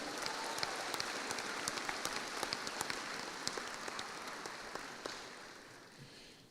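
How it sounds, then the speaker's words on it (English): Applause crackles steadily from a crowd at a high school commencement, a dense patter of clapping at moderate distance that gradually fades toward the end. "Can we please give them one more big round of applause?"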